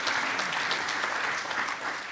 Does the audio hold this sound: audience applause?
yes